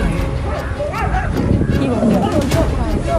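A dog barks and yips aggressively at a lion in short bursts, heard beneath continuous talking that dominates the clip.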